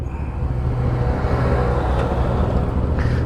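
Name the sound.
road traffic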